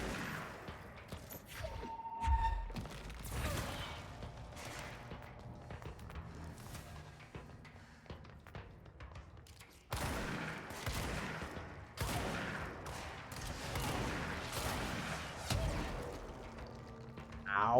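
Gunfire in the action game Control, with repeated bursts of shots and impacts mixed with footsteps and whooshing movement, dense and continuous at mid loudness, with a louder boom near the start.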